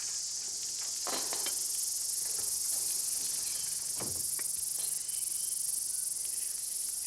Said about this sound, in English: The only thing up here in the treetops today with me are the cicadas.